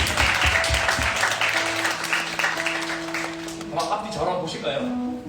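Church congregation applauding during a first Sunday worship service, dense clapping under a sustained organ or keyboard chord, with voices mixed in and the applause thinning toward the end.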